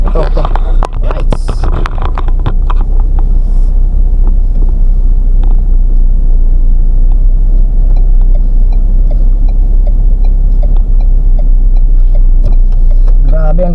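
A Ford Ranger pickup moves through slow traffic, heard from inside the cab as a loud, steady low engine and road rumble, with clicking ticks scattered through and brief voices near the start.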